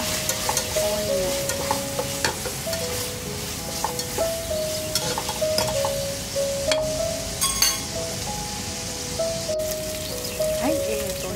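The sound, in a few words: sautéing onion in a pan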